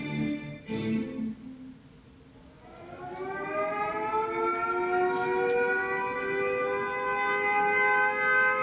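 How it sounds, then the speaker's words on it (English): A World War II air raid siren winds up slowly from a low growl into a loud, sustained wail that holds steady and drones on. "Sirens sound the alert."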